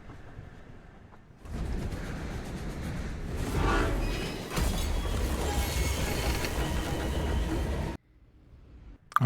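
A moving train in Duet Night Abyss gives a loud, steady mechanical rumble and clatter that starts suddenly, holds for several seconds with a few sharp knocks, and cuts off abruptly.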